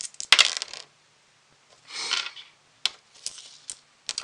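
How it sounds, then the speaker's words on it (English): Three dice rolled for a board game, a burst of rattling clicks and tumbles followed by a few scattered sharp clacks as they settle, close and alone. "We're going to roll 3 dice now."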